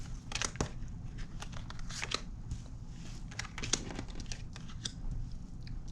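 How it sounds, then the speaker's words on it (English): Tarot cards being drawn and handled for a clarifying pull, a string of sharp papery snaps and shuffling crinkles, close and faint, with no talk. "Let's grab the clarifying cards."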